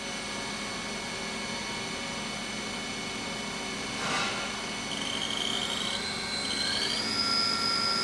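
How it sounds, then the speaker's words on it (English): A 2007 Haas VF8B/40 vertical machining center spindle runs at speed, a steady hum with high whining tones that step upward in pitch partway through as the revolutions climb, alone with no talk. "Spindle currently running at 1000 RPM."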